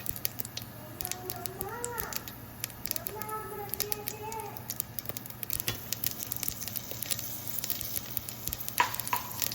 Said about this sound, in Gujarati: મસ્ત કઢીનો વઘાર થઈ ગયો છે.